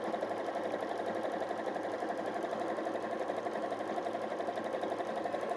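A sewing machine runs a zigzag stitch across a bag, a fast, even mechanical whir with rapid needle ticking, close up and unbroken, with no one speaking.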